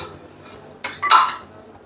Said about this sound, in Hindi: अब मैं इसमें 1 चम्मच घी डालती हूँ।